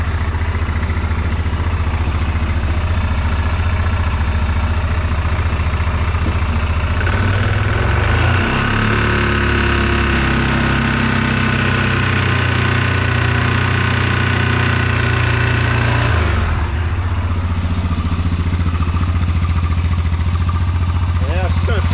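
A Yamaha Rhino 660 engine with a hole in the cylinder head runs steadily after start-up, a loud continuous rumble with a rise in revs partway through, close by.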